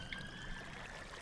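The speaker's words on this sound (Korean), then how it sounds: "야 물소리 난다 들리냐?" Flowing water in the video game Minecraft: a faint, steady trickling wash that runs without a break and with no voices over it.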